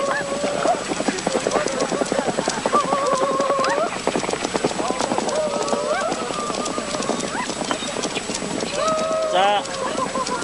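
Racehorses galloping in to the finish of a Mongolian naadam horse race, a rapid clatter of hooves under a commentator's continuous voice, with a crowd audible in the background.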